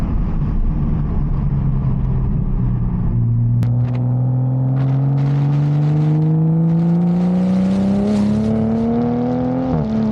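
A 500+ HP Toyota Supra drives through canyons, its engine droning steadily with a rising pitch as it pulls through a long gear, loud and close, with a brief shift blip near the end and no talking.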